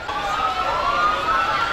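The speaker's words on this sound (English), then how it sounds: "I do finally hear sirens." Sirens sound at a street parade, a steady wailing tone holding and slowly sweeping through the whole stretch amid continuous crowd and street noise.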